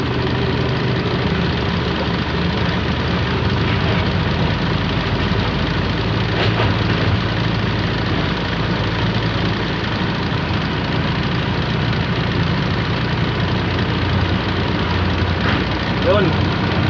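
A 2012 FAW 24-valve truck engine runs at a steady, loud, low idle with a constant rumble and faint knocking texture, and someone talks over it.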